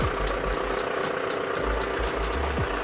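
A John Deere 6420 S tractor engine with 5,700 hours idles steadily and close, a continuous low rumble with a rhythmic knock and no pauses.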